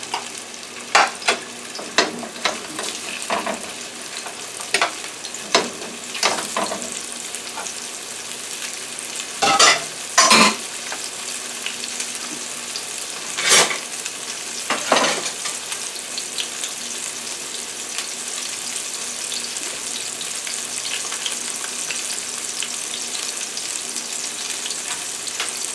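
Lime salmon fries in a hot frying pan, giving a steady loud sizzle throughout, broken by sharp pops and clatters of the pan and utensils.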